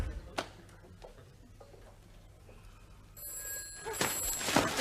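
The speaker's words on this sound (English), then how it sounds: "It's only the phone." A telephone bell rings in a home, a bright trilling burst arriving after a quiet room with a faint low hum, loud and close at the end.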